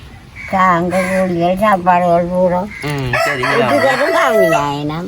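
A rooster crows loudly several times in long, drawn-out calls, with hens clucking around it. Voices talk faintly in the background.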